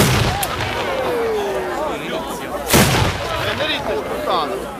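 Firework bomb shells burst at an outdoor pyrotechnics display in Vitulazio, Caserta, with one loud, sharp boom near the middle over a steady crackle and crowd noise. Whistling rockets rise briefly and voices are heard throughout.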